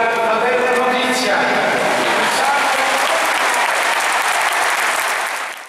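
Long applause from a crowd of faithful in Naples cathedral at the San Gennaro ceremony, a loud, continuous wash of clapping that fills the space and holds steady before easing slightly at the end, with voices mixed in.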